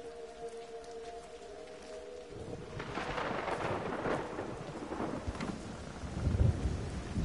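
Rain and thunder in the video game Everybody's Gone to the Rapture: a soft hiss of rain builds into rolling rumbles of thunder, with a deeper boom near the end, faint and without talk.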